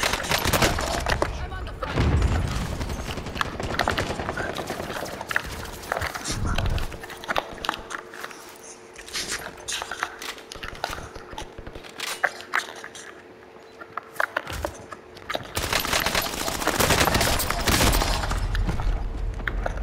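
Rapid gunfire and machine-gun bursts in Call of Duty: Modern Warfare, with sharp clattering volleys that come and go in loud clusters. A player's voice is heard between the shots.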